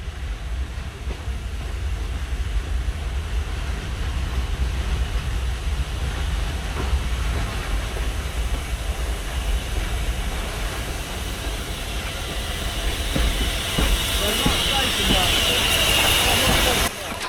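USA Class S160 steam locomotive 6046 arrives on a heritage railway, with a steady loud rumble and hiss of steam building toward the end, while people talk over it.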